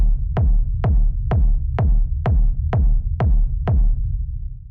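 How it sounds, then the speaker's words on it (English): Punchy techno kick drum sample in a Drumcode style at 127 BPM, eight deep thumping hits evenly spaced, each with a sharp click and a descending boom, played alone over a low hum. "we have the kick, which sounds like this"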